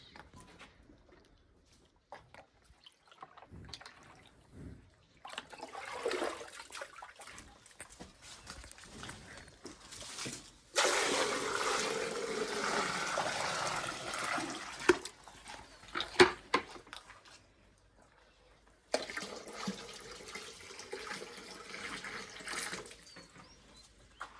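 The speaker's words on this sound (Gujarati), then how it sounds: "તો ચાલો મિત્રો પેલા ફટાફટ ડોલ ભરી લેવી" Water runs from a tap into a bucket in a livestock yard, a steady gushing stream that starts and stops in several bursts, with louder full-flow stretches and quieter pauses between them.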